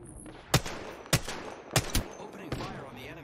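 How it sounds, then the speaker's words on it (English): Gunfire in the video game Apex Legends: five sharp, loud shots in an uneven burst, with quieter game sounds between them and no talk. "Opening fire on the enemy."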